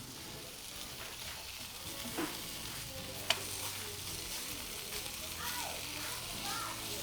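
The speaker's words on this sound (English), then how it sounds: "Want to pan fry it until it turns some nice color." Pork chops pan frying for honey glazed pork chops, a steady broadband sizzle running throughout with occasional light pops and clinks of utensils in the pan.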